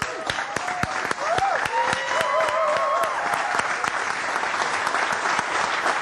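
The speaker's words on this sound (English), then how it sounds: "I want every one of you to just stand up and give the warmest applause, the biggest rock star applause and cheering that we can give to Manel." A startup-event audience in Barcelona applauds and cheers, a dense, steady wash of clapping with a few sharp whoops rising above it, loud and sustained for several seconds.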